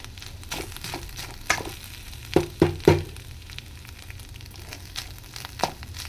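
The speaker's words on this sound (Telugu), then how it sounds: "ఇంకా ఫ్రై అవుతుంది, సిమ్లో పెట్టాను." Freshly grated coconut fries in a pan over a low flame for a jaggery sweet, giving a soft, steady sizzle with a few louder scraping stirs in the middle.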